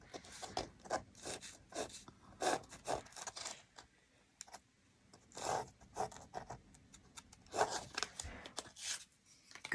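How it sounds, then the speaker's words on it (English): Pencil lead scratches across quilting fabric in short bursts of dry rubbing strokes, marking lines for a nine patch block, with a quiet pause in the middle before the strokes resume close and clear. "Slant the pencil in."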